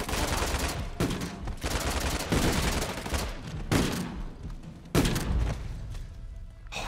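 Dense shotgun gunfire from the Uncharted 4: The Lost Legacy video game, loud overlapping blasts and booming reports in a continuous firefight, with several sharp bursts standing out against the din.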